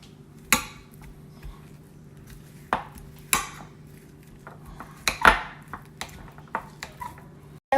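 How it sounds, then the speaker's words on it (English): Mashed avocado stirred with chili powder, salt, spices and cilantro in a bowl: a few sharp, isolated clinks of a utensil against the dish, spaced irregularly over a quiet background hum. "Now that all my ingredients are in, I'm going to put some cilantro and mix it."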